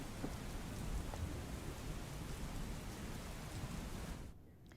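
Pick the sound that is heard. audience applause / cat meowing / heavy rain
heavy rain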